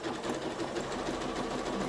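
A sewing machine stitches along a fabric edge and turns without cutting the thread, giving a steady, fast, continuous mechanical whir that runs alone at close range.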